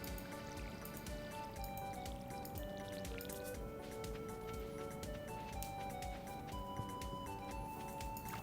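A watering can pours onto blueberry crops in Stardew Valley, giving soft repeated drippy splashes and liquid squishes over a continuous layer of game music, quiet and steady with no one speaking.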